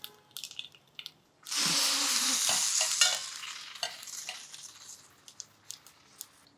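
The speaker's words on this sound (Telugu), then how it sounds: "తాలింపు వేగిపోతుంది." Mustard seeds and urad dal hit hot tempering oil for a dosakaya pappu, setting off a sudden loud, close sizzle that slowly fades into scattered pops and crackles.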